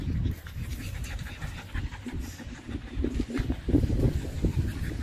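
American Bully puppies pant close by in quick, uneven breathy bursts, the soft huffing rising and falling over several seconds with faint whimpers mixed in.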